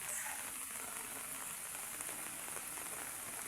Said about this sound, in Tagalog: Talagang hindi natigil yung ulan eh, tuloy-tuloy yung ulan.